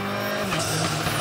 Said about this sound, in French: Avec Christian Schmitter au volant de la Porsche.